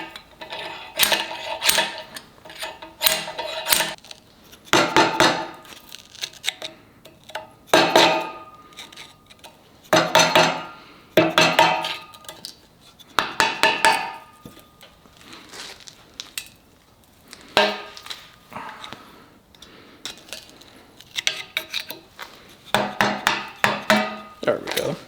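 Drill bit grinding out rivets on a Ford 9.75 axle from a 2004 F-150, in repeated short bursts with pauses between, fairly close and loud, with metallic clanks in the gaps.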